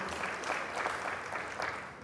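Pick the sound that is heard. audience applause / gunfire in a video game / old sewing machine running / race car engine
audience applause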